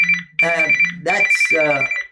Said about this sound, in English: now this phone is ringing